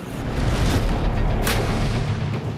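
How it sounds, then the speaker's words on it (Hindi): Gunfire rings out during a police encounter with a cornered criminal in Uttar Pradesh: a loud, continuous booming rumble with a sharper crack midway, and no voices. "बीच बीच में गोलियां चल रही थी"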